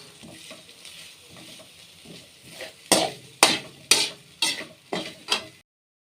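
Grated coconut fries in a pan with a steady low sizzle, then a spatula scrapes and stirs it in a run of sharp, regular strokes, loud and close, with no voices.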